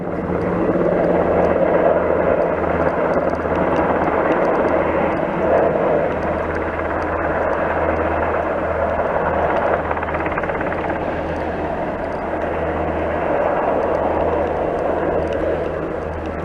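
A loud, constant low engine drone with a throbbing rotor beat from a firefighting helicopter passing close overhead near a pond and power lines, holding steady throughout.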